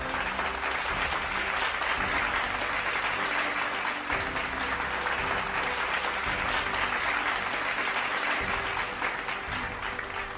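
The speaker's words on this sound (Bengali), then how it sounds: "চ্যাম্পিয়নের জন্যও একটি জোরে হাততালি" Sustained applause from a large outdoor crowd at a Dhaka charity run's awards ceremony, honoring the men's race champion; steady, dense clapping fills the whole stretch with low background murmur and tonal hum underneath.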